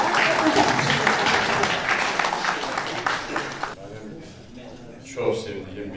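An audience at a stage event in Azerbaijan breaks into loud sustained applause as a guest is welcomed. The clapping fades after a few seconds into quieter room sound with someone speaking.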